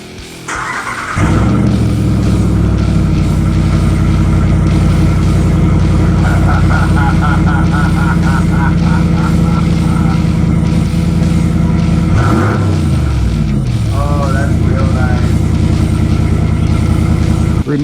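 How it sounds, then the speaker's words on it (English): A loud, raw 2019 RAM 1500 Rebel truck engine rumbling steadily without a muffler, with a few sharp revs and squeals partway through; no talking. "Let's see what it sounds like without a muffler."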